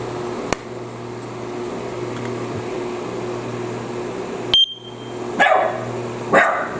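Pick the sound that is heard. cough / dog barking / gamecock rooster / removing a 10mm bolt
dog barking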